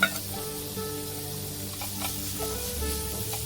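Marinated chicken sizzles in hot oil for a pepper chicken roast, a steady, close frying crackle with a faint hum underneath and no voices.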